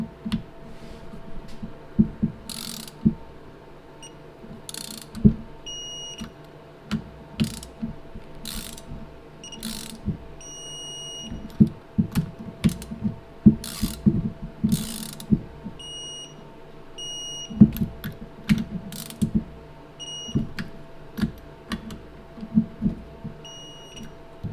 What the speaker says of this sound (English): Let me get the torque wrench.